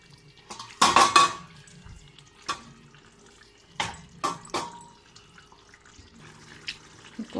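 Coriander stirred into egg curry in a pan, heard as a few scattered metallic scrapes and clinks of a utensil against cookware, with quiet gaps in between.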